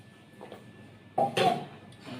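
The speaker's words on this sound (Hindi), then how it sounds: "पानी पी लिए हैं।" A teacher gulps water mid-lecture in a chemistry class, with a brief swallowing and throat-clearing burst near the middle, short and close, surrounded by quiet room tone and no speech.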